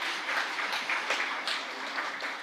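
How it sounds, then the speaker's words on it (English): An audience at an international rehabilitation forum in Lviv applauds a mayor, with a short burst of dense hand clapping from a hall crowd, steady and moderately loud. "Let's applaud to the mayor of Ochtyrka."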